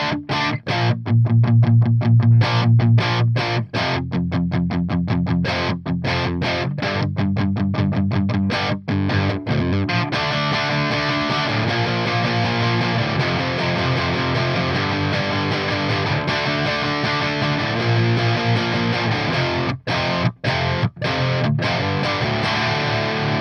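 An electric guitar plays a low-gain crunchy rock tone through the high gain channel of an Orange Rockerverb 100 amp, loud distorted riffs with choppy staccato stops early, then sustained chords for over twenty seconds.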